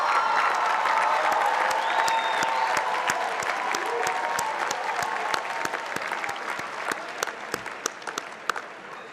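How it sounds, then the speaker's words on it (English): Graduates at a university commencement ceremony applaud their family and friends in a large, sustained round of clapping from a big crowd, loud and steady, with sharper individual claps standing out as it thins toward the end. "turn around, and give your family and friends a big round of applause"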